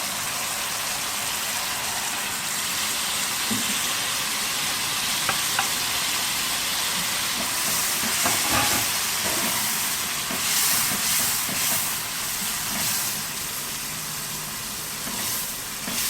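Tomatoes sizzle and fry in a chicken karahi, a loud steady hiss of hot oil close by with occasional stirring bursts, no talking over it.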